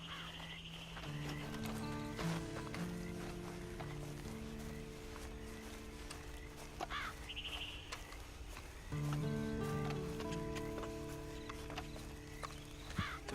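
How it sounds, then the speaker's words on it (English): A horse in the video game Red Dead Online walks with steady clip-clop hoofbeats and an occasional whinny, set under looping game music with no talking. "Then you better get on this horse."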